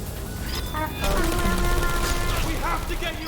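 Turret gunfire in the video game Portal 2, rapid dense bursts of rattling shots mixed with game sounds and voices, loud and continuous throughout.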